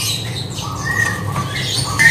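Caged songbirds at an Indonesian bird market give short, sharp whistled calls twice over a steady hum of market background noise, with no talk.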